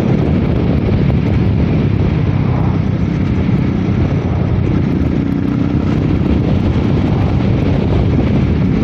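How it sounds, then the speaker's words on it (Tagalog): Loud, steady wind roars and buffets the microphone throughout, a dense rumbling blast with no pauses, heard while riding a motorcycle at Talisay on the Bacolod to Escalante road. "Sobrang lakas talaga ng hangin."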